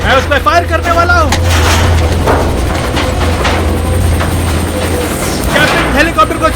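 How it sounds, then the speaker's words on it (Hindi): In a Hindi-dubbed action film featuring a helicopter, sharp bursts of gunfire ring out over a steady low mechanical drone, with dialogue spoken over the shots. "मैं उस पर फायर करने वाला हूँ।"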